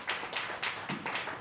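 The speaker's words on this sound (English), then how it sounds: "Big round of applause for your host, Jason Ward" Audience applause at a comedy show on a Monday evening, a steady wash of clapping from a small room that swells in several waves across the moment.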